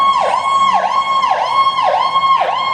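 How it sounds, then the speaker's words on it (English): A fire engine siren wails loud and close as the truck passes, rising and falling in a steady repeating cycle about every half second, with no talking over it. "I like to pardon the engine that's coming by right now."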